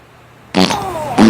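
Fart sound effect triggered by a livestream donation, two sharp blasts after a brief quiet moment: a longer sputtering one and then a short loud burst.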